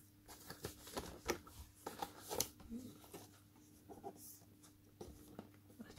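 A blade slicing through the sticker seals on the side of a boxed PowerA chrome Nintendo Switch wired controller, faint scratchy cuts and crinkling taps in short irregular bursts, close and quiet.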